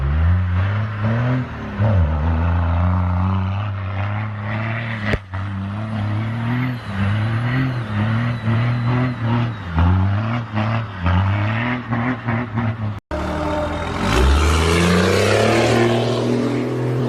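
A Ford 6.0 Powerstroke diesel truck engine revs repeatedly up and down, loud and close, with a rough, deep tone and a louder surge near the end.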